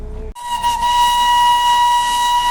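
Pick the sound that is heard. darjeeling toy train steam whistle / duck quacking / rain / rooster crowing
darjeeling toy train steam whistle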